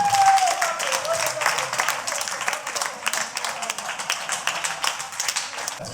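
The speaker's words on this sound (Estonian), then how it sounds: "Ja teeme veel kord suure aplausi" A crowd applauds at a children's reunion gathering in Nasva. The dense clapping is loud at first, then thins into uneven bursts.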